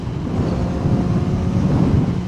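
Wind buffets a rider on a sport motorcycle on a trip through Cavite. A loud, steady, low roar of wind hits the microphone up close throughout, with no voices.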